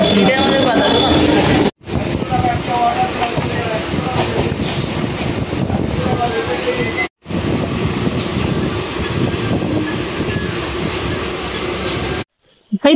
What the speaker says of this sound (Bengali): আসছে বনগা লোকাল।